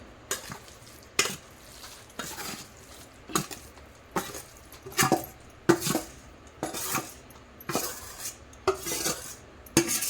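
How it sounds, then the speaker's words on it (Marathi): Soaked bajra dough being scooped out into a parat, a large metal plate, with a steady run of scraping, clinking metal-on-metal strokes, roughly one every second, close and fairly quiet, with no talking. "हे बघा हे मी परातीत घेत आहे काढून"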